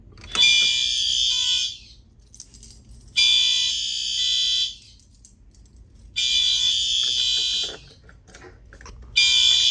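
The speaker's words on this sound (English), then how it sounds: "Alright, do you want me to pull the Simplex?" Fire alarm system test with a Simplex pull station, the alarm sounding loud and close in three long on-off bursts of shrill tone separated by short quiet gaps, with no talking.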